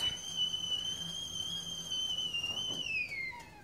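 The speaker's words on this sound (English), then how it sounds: "the teapot's whistling and it's obviously ready" A stovetop teapot whistles with a steady, piercing high tone that holds for several seconds, then slides downward as it is taken off the heat, over a faint kitchen background.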